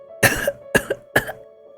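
Three harsh, raspy coughs from a man, close and distinct, spaced roughly half a second apart with a low hum underneath.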